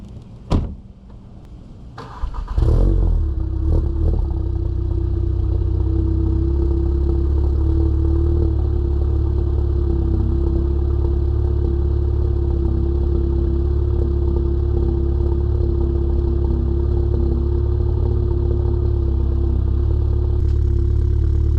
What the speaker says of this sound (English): give you guys a little cold start of the new exhaust setup